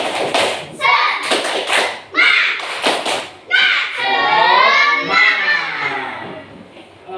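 Students in a classroom perform a patterned cheer clap, sharp groups of hand claps and thumps in a set rhythm, mixed with the children's chanting voices.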